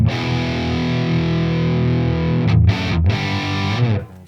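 An electric guitar plays through a Mesa Boogie amp model in ToneX, giving a thick, distorted sustained chord that rings out loud, followed by a few quick choppy stabs before it fades.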